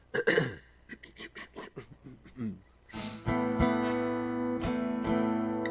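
A few rough throat-clearing rasps and short coughs up close, followed by a steady tonal hum that carries on to the end.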